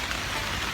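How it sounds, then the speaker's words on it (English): Heavy rain pouring down in Coorg, India, a dense, continuous hiss of drops on surfaces heard up close, with no talking. "it's raining really hard"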